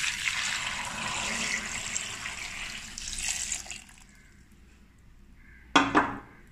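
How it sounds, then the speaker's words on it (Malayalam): Water pours into a bowl of grapes in a kitchen, a steady splashing rush for several seconds that stops abruptly, followed after a quiet gap by a single sharp clink of the bowl. "അതിലേക്ക് വെള്ളം ഒഴിച്ചു വയ്ക്കുക."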